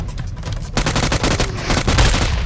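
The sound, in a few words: gunfire in the video game PUBG Mobile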